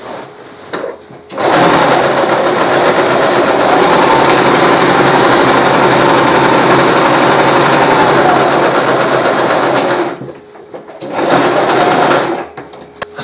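Sewing machine running steadily through zigzag and straight top stitching on a medieval knight's surcoat fabric, a loud continuous whirring that stops briefly near the end before starting again.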